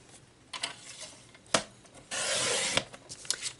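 A paper trimmer slices cardstock in a quiet crafting setup, with a few soft clicks and taps followed by one short, smooth scraping glide of the blade, close and faint.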